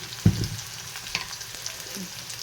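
Pumpkin and salted onions fry in a pan, a quiet sizzle with a sharp knock at the start and a few light stirring clicks, close and without speech.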